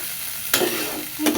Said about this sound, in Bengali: ইলিশ মাছ ভাজি দিয়ে আবার একটু ভালো মতো নাড়াচাড়া দিয়ে নিই